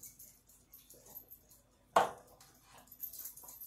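Dogs eat a hot cauliflower rice casserole, with one sharp clatter standing out among quiet, scattered chewing and licking noises.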